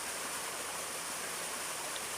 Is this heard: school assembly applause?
no